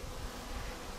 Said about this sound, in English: the bees aren't flying around as crazy, but they're still flying around